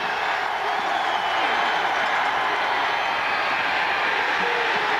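A Mississippi State football crowd cheers in a stadium, a steady, loud wall of roaring voices that holds evenly from start to finish without any clear break.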